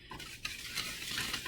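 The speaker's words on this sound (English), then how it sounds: "So I'm going to mix it up now. You always want to mix your dry ingredients" Dry ingredients for cranberry bread, including sugar, salt, baking powder and baking soda, are stirred in a bowl, giving a quiet, brief swishing and scraping up close with no voices.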